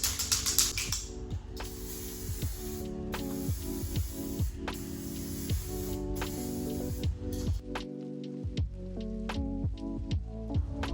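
Light tack coat of paint sprayed onto a Stratocaster clone guitar body, a steady continuous hiss of spray with brief breaks and small clicks, close and fairly loud throughout.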